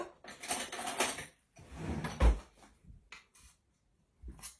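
A spoon adding cocoa powder to a bowl, close and quiet: a few short bursts of scraping and clinking of metal against the bowl, separated by brief silences, with one dull knock in the middle.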